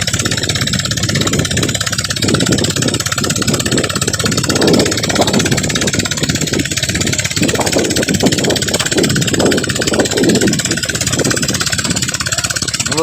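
Loud, unbroken engine drone from a dredger machine blasting water to cut sand and soil, with rough churning and splashing textures rising and falling beneath the steady running note.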